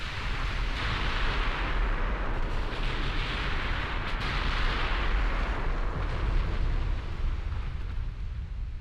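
Naval gunfire and shell blasts in the warship battle game Ultimate Admiral Dreadnoughts, a dense continuous roar of booming explosions that rises and falls, loud and with no speech.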